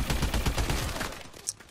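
Rapid automatic gunfire from a gun in the video game Call of Duty Advanced Warfare: a dense burst of quick shots lasting about a second, then a trailing tail and one faint extra pop.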